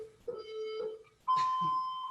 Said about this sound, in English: I hope you guys could hear that beep.